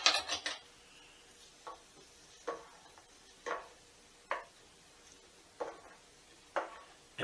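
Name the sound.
stirring a herbal mixture in a pot on the stove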